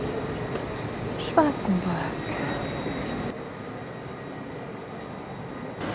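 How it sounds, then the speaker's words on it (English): A train pulls into a station in western Switzerland. A brief falling screech of brakes rises over a steady rumble near the start, followed by a quieter, even hum, with a person talking throughout. "Ah, the train is here."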